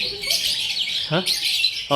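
Several birds at a zoo in Darjeeling call and squawk in bright, overlapping bursts, fairly close, with a busy chorus continuing throughout and brief sharper calls near the end.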